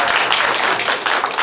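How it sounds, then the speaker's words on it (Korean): Church congregation applauding after an award presentation for a gospel CCM singing contest during a high school Sunday service, steady dense clapping filling the short moment at moderate loudness. "박수합니다."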